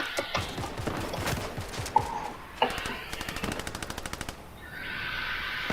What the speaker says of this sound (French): Il tire sur quelqu'un.